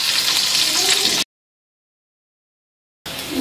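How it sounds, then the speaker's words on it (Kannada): Garlic and onion fry in a hot pan for veg noodles, a bright, dense sizzle that cuts to silence for nearly two seconds before resuming just as loud. "ಆನಿಯನ್ ಫ್ರೈ ಆಗಲಿ."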